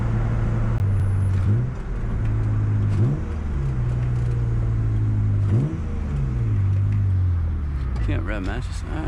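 A car engine revs repeatedly in loud surges during a burnout, each rise in pitch followed by a steady high drone, close and continuous.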